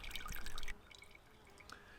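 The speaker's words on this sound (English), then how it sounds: "So you just want to slowly drip the water through, nice and easy." Melted snow water is poured through a fragile filter while filtering black carbon samples: a brief louder pour at first, then faint, slow drips trickling in the quiet.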